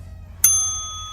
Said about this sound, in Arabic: ترى هيضرب الجرس ولا لأ؟